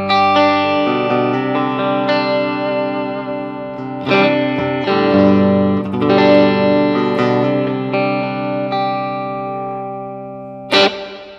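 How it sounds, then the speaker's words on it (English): Electric guitar played through a NUX Mighty Air wireless practice amp on its clean Twin Reverb channel, ringing sustained chords and notes with reverb tails and a sharp strum near the end. "we are on the clean channel, twin reverb."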